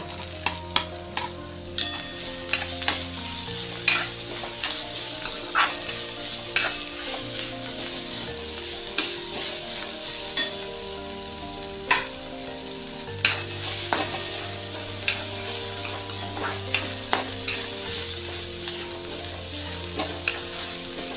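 Ginger, garlic and green chilli frying in hot oil for veg momo stuffing, a continuous close sizzle broken by regular scraping stirs of a spoon in the pan, with no talk.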